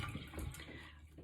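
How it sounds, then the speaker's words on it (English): Tap water runs steadily over a makeup brush being rinsed at a sink, a soft close splashing and trickling that stays even for the moment it lasts. "like this as it rinses to kind of make sure the makeup has come out of it and that the water runs clear"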